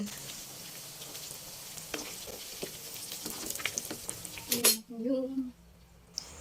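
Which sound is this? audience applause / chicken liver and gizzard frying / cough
chicken liver and gizzard frying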